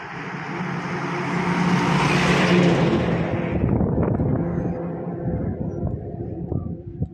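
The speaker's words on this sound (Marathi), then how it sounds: "आता गाड्या येत आहेत बघा." Vehicles speeding along a highway near a small village in Karnataka, a broad whooshing roar that swells to a peak around the middle and then fades, with wind buffeting the microphone and a steady engine rumble underneath.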